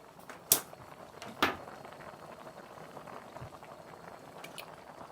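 Spaghetti boiling in a fairly big pot of water: a faint, steady bubbling simmer, broken by two sharp clicks near the start.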